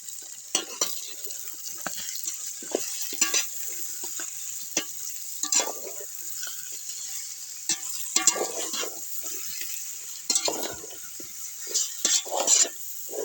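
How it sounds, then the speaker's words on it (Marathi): Mutton stirred with onion in a pot over a wood-fired village stove gives scraping, clinking strokes in an irregular rhythm over a steady frying sizzle, close and fairly quiet, with no talking. "हलवायचं आता."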